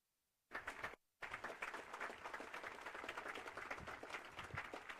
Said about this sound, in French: je vous demande d'applaudir fortement les vétérans présents à nos côtés